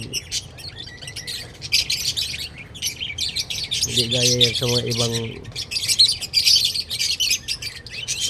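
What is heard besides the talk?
pet birds chirping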